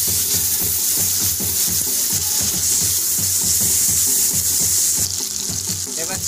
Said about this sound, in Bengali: জল অ্যাড করে দিচ্ছি।